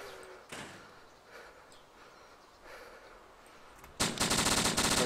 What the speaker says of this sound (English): I'm getting shot at, dude.